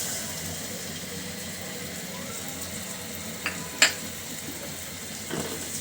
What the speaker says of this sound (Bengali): এখন মশলাগুলো খুব সুন্দর করে পেঁয়াজ মরিচের সঙ্গে কষিয়ে নিব।